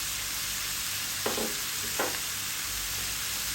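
Carrot and white beech mushroom frying in a pan give a steady, close sizzle, with two brief scraping stirs of a utensil partway through.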